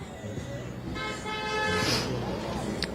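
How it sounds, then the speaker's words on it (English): A car horn sounds a sustained toot, moderately distant, amid street noise at a night protest with police present, with people talking around it. "Car honking in solidarity."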